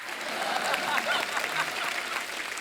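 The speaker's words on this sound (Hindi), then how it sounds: "एक बार जोरदार तालियां हो जाएं अजय देवगन साहब के लिए" A studio audience breaks into loud, continuous applause for the actor Ajay Devgn on a Hindi television show, a dense, even clapping that lasts throughout.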